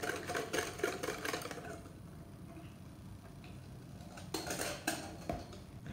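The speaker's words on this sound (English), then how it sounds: "And then I just wanna start folding those in." Spoon or spatula scraping and clinking in a bowl as wet ingredients are folded into gingerbread dough, with bursts of close clattering at the start and again near the end and quieter working in between.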